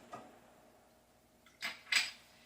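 A metal pan set down on a stovetop with a few short clanks, one faint knock and then two sharper, brighter hits close by in a quiet kitchen.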